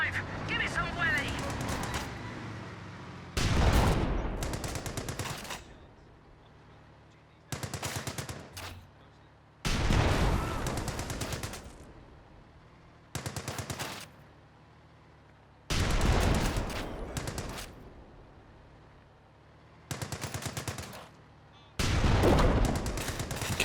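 A tank's machine gun fires in a video game, loud long bursts repeating roughly every few seconds, with someone talking in the quieter gaps between them.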